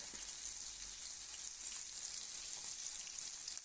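Carp frying in a pan, a soft, even hiss of oil running unbroken and fairly faint, with no voices.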